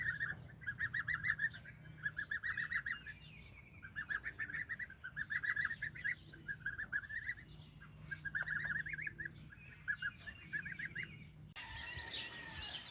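Young goslings fresh from two weeks in a brooder give steady high peeping and chirping bursts from a chicken tractor on grass, close and continuous, with a soft low hum underneath and a brief rustle near the end.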